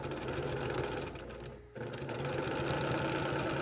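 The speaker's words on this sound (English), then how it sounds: "I'm gonna take this block and I'm gonna put it right sides together with row 2. And I'm just gonna run this right through my machine." Sewing machine stitching quilt blocks together along a row, a rapid steady whirring hum close by, briefly slowing and pausing before running on evenly.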